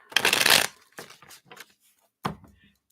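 Tarot cards are shuffled by hand in a quick riffling burst, followed by a few shorter, softer shuffles and taps, close and clear.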